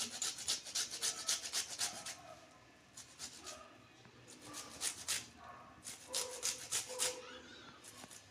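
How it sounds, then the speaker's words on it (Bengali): Cauliflower being rubbed by hand over a grater, producing quiet rhythmic scraping strokes in bursts with short pauses between them, faint and close. "এই যে কপিটাকে আমি ঘষে দিচ্ছি।"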